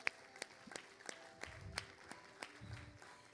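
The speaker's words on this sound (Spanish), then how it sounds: "Denle un aplauso a Él," A church congregation claps for Jesus during a sermon, sparse and faint, with separate hand claps falling at a loose, even pace and no voices over them.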